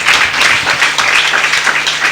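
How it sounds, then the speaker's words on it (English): Audience applause at a 2016 literary festival panel, a steady dense wash of clapping filling the whole moment without pause, with a faint low hum underneath. "A round of applause for both."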